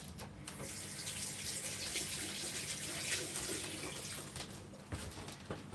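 Tap water runs steadily into a kitchen sink as vegetables are rinsed, a continuous hiss at moderate distance with occasional splashes and handling knocks, no voice heard.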